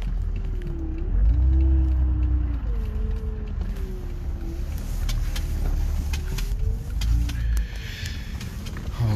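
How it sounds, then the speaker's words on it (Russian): A car is being driven, heard from inside the cabin, with a low, steady road rumble and engine drone. A faint tonal whine rises and falls above it, and brief clicks and knocks come through near the end. "Вот сейчас я болтаюсь в этом автомобиле."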